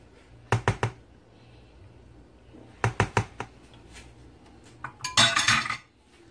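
A utensil clinks against a bowl while tuna is mixed with cream, sharp knocks arriving in quick pairs and triplets with pauses between, ending in a busier burst of scraping and tapping.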